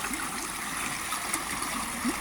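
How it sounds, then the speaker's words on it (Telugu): Waterfall at the Pulichintala project pours in a steady, broad rushing roar of falling water, close and continuous with no voices over it. "చూడండి ఇక్కడ జలపాతం ఎంత అందంగా ఉందో."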